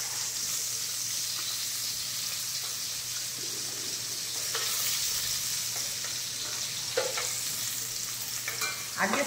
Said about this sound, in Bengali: শিম আর আলুটা ভাজা ভাজা হয়ে গিয়েছে